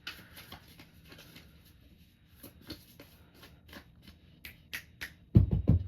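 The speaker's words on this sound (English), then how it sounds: "Do a little shuffle." Soft papery flicks and riffling of tarot cards being shuffled close by, in irregular bursts, ending with a louder thump-like shuffle.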